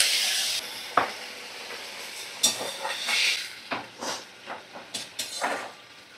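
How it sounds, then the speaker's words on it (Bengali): Fish curry broth with fried brinjal bubbling in a pan, a hissing simmer broken by irregular bursts and gurgling pops, close up, with no voices. "ঝোলটা বেশ ভালোই ফুটে গেছে"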